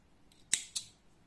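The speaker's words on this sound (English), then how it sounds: "I am cutting the yarn." Scissors snipping through crochet yarn: two quick, close, crisp cuts in a quiet room, with no one talking.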